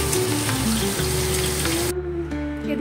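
Pointed gourd (parwal) pieces fry in a pan with a steady, close sizzle that holds on without a break, while a low tonal hum and a brief clatter can be heard underneath.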